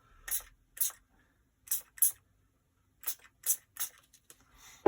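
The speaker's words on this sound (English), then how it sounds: "As you can see, they're spraying absolutely everything." Spray bottles spritz paint across an art journal page in short separate bursts: about eight soft, hissing puffs, some in quick pairs, with quiet gaps between them, close and fairly faint.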